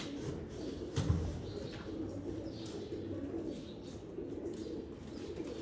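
Caged pigeons coo in a pigeon loft setup of about seventy birds, a low murmuring coo with one louder burst near the start, then a steady soft bird murmur throughout, with no talking.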